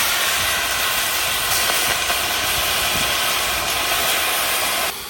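Freshly washed water spinach greens hit a hot wok with a steady, dense sizzling hiss that holds evenly for about five seconds, then drops slightly at the end.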